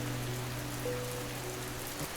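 Steady rain falls outside a window, a soft, even patter that carries on without a break for the whole stretch, with a faint low hum running underneath.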